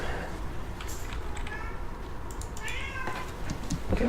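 A pet cat meows several times at close range, with soft rising and falling cries spread across the clip over low background noise.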